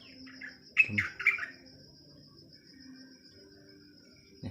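Birds, a male and a female coming down to feed, give a few short chirps and squawks clustered early on over a faint steady background tone, close and fairly quiet.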